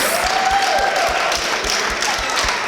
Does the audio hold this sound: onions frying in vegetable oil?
no